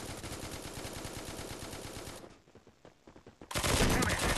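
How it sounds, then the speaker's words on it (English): Warning shots in the shooter game Forward Assault: a rapid, loud burst of automatic gunfire for about two seconds, a short quieter gap with scattered shots, then another intense burst. "Just giving them some warning shots"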